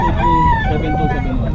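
A rooster crows loudly and close by in one long, strained call with layered harmonic tones, filling the short moment.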